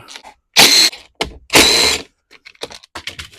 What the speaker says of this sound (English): take off this air box cover, and that's a T27 Torx bit